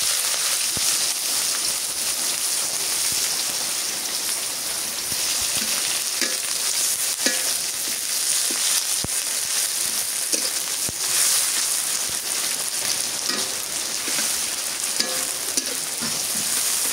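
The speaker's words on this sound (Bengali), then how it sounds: "সব মশলা, লং, দারচিনি, গরম মশলা, ছোটো এলাচ, পেঁয়াজ কেটে দিয়ে দিই।" Whole spices (bay leaf, cloves, cinnamon, garam masala, green cardamom) and chopped onion frying in hot oil in a pan, a steady dense sizzle with occasional pops and spatula scrapes, no talking.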